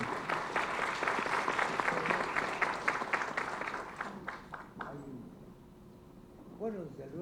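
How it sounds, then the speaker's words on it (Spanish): Applause from an audience in a parliamentary chamber fills the first five seconds as dense, steady clapping, then fades out. A speaker's voice follows. "les pido un aplauso"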